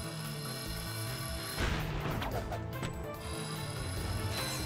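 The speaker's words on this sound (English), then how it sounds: "The concussion cannon." Concussion cannon in Ratchet & Clank: Size Matters: a single heavy blast lands midway over steady game music, followed by a crashing, rumbling decay, with a fainter impact shortly after.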